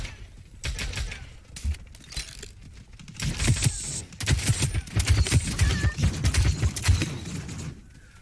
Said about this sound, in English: I shot him like six times with a fucking gold heirloom rifle